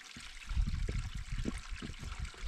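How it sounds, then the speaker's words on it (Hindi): Water from a green mountain spring trickles and gurgles into a bottle being filled on a Himalayan trek near Munsiyari, a steady close dribble with gentle bursts throughout. "बस पानी भरना है।"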